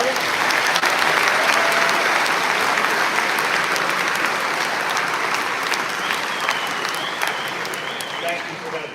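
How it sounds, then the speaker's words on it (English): A sustained round of audience applause fills a school auditorium at a high school commencement ceremony, loud and even throughout, slowly tapering slightly toward the end. "If we could just start with a quick round of applause for Mr. Deeb, Mr. Riccio, and Mr. Moll."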